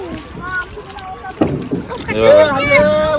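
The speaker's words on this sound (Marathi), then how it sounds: "बोट येते ते बघा ही ना ते मोठी बोट आहे" A boat comes into Aadgaon fishing harbour, its steady motor drone rising and strengthening over about three seconds, with people talking nearby.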